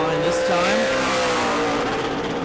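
Stock race car on a qualifying lap at New Smyrna Speedway, engine droning at high revs with shifting pitch as it passes, loud and close, with an announcer talking over it.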